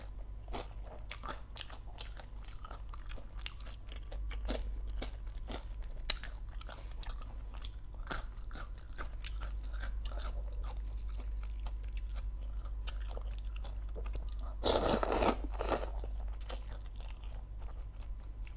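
Loud close-up crunching and chewing of crispy pork eaten with Thai papaya salad, with repeated crisp bites and a sharper burst of crunching near the end and no talking.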